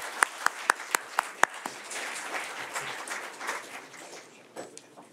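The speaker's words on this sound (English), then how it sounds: "One last time, let's a round of applause to thank our panelists" Audience applauding to thank the panelists at an AI for social good event, opening with several sharp, separate claps before settling into a softer, diffuse round of applause that gradually thins out.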